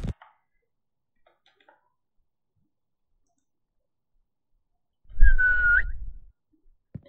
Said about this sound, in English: I guess I pressed the whistle earlier before the AI character controller is initialized